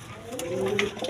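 A pair of racer pigeons in a seller's loft gives a single drawn-out rising coo, close by, with faint clicks and rustling around it.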